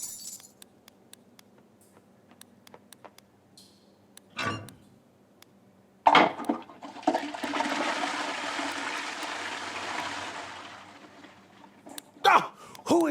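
A toilet flushes in the video game Loco Motive, a loud rushing swirl of water lasting several seconds after a sharp clunk, with faint clinks and taps before it and a few clicks as it fades.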